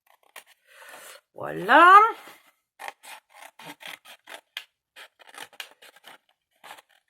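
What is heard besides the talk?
cutting card with small scissors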